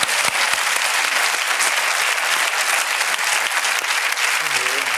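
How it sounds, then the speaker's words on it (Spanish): Sustained studio audience applause on a Spanish late-night TV talk show, dense steady clapping filling the whole stretch at an even loudness, with no talk over it. "¡Aplauso, por favor!"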